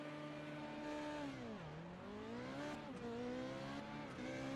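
A Formula Renault 3.5 race car in iRacing at Zolder revs and climbs through the range, pitch dipping sharply on gear changes and off-throttle moments before rising again, a continuous, clear engine whine without talk.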